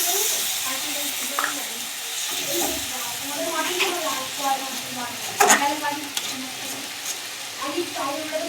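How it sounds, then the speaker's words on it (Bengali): Onion, ginger and garlic fry with a splash of water in a pan for biryani, giving a steady close sizzle and hiss with small stirring scrapes, while a voice talks faintly underneath. "জলটা দিয়েও কষিয়ে নিচ্ছি।"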